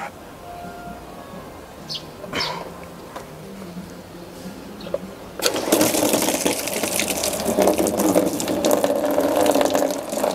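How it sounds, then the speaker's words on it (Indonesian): A household water pump switches on partway through, a sudden loud continuous whirring rush with gurgling water that stays steady after a quieter stretch of faint background sounds and birds. "Sekarang kita akan nyalakan pompa."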